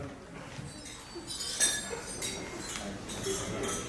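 Glasses clink together during a wedding toast, a few bright chimes and taps rising over a murmuring crowd of guests at a reception.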